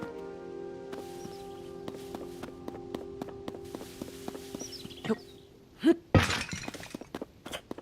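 Clay pots breaking in The Legend of Zelda: Tears of the Kingdom, a few sharp shattering crashes late on over steady game music and light footsteps.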